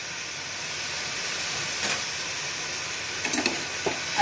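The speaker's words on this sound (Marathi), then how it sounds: "आता हा कांदा चांगला गुलाबी होईपर्यंत परतायचा।" Onion with crushed ginger and garlic sautéing in a pan for a spicy prawn masala, a constant faint hiss with a few light scrapes near the end.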